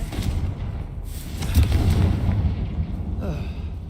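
The Confringo fire spell in Hogwarts Legacy bursts in a loud, booming explosion whose deep rumble rolls on for several seconds before tapering off.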